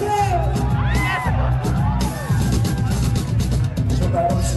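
A live audience shouts, whoops and cheers loudly at a stage show, the crowd's yells rising and falling in overlapping bursts with voices calling out throughout.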